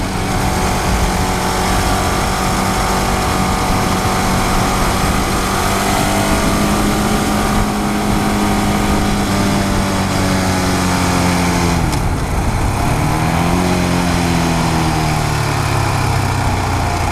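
A 2015 KTM Duke 690 single-cylinder motorcycle engine drones steadily while riding, loud and continuous with wind noise, its pitch holding level before dipping and climbing again through a gear change near the end.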